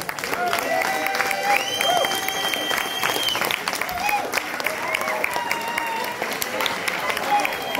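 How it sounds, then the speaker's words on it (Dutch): Warm crowd applause and some cheering for youth prince Max at a carnival farewell event, continuous clapping with voices and tonal calls mixed in, loud and close. "Ik wil even een heel diep, vet geworden applaus voor onze jeugdvorst Max."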